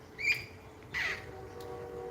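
Two harsh squawks from wild parrots in Southern California ring out outdoors at moderate distance, a short shrill call followed by a louder raspy one, with a quiet gap between.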